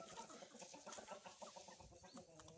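A rooster causes a ruckus among hens, with a busy mix of clucks and squawks from several birds overlapping in quick, irregular bursts, faint and fairly close.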